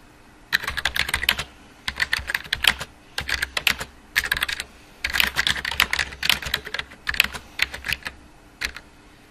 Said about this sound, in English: Let's try writing a whole sentence.